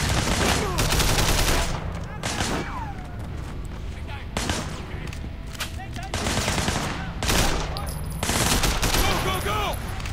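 Repeated bursts of gunfire in the open-world action game Sleeping Dogs, sharp volleys and rapid automatic fire coming in clusters across a graveyard shootout, loud and close, with a voice talking over parts of it.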